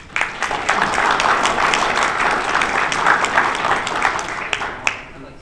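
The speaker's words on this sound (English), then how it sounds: "I would like to give another round of applause to the farmers here." A round of applause for farmers at a low-cost cow-calf production meeting, steady dense clapping from a crowd lasting several seconds before tapering off.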